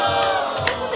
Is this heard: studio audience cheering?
yes